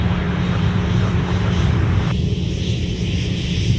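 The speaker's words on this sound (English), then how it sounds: "this Southwest flight is passing by us" Southwest airliner rolling past on a taxiway at Minneapolis–St. Paul airport, its engine roar loud, close and steady throughout, the higher whine dropping away partway through.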